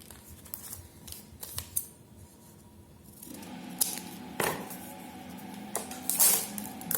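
Scissors snipping paper while making a paper blaster, a run of crisp, close cuts with irregular spacing, heard alone with no talking.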